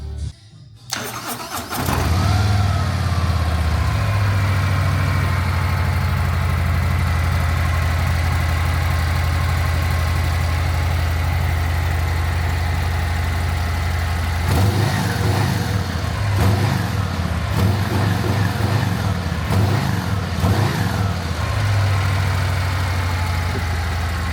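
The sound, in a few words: motorcycle aftermarket exhaust idling and revving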